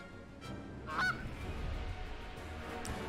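A duck in the video game Fell Seal gives a short, nasal quack over continuous game music and ambience, with a few faint game effects around it.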